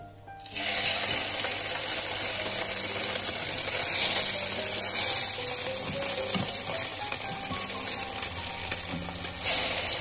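Steady sizzling of cod frying in olive oil in a pan, continuous crackle throughout with faint clinks, no talking.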